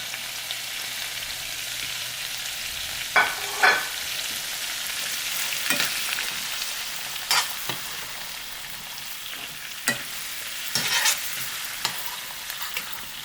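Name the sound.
fish frying in a pan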